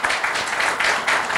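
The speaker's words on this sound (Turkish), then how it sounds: "Gel seni bir şöyle bir alkışlayalım." An audience at an earthquake panel applauding a guest called up to the front, a brief burst of steady, fairly loud clapping from many hands with no pause.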